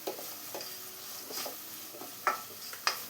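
Chopped onions, green chillies and curry leaves frying in oil for papad samosa filling, with a soft steady sizzle broken by a few sharp stirring scrapes and clinks of a spoon against the pan.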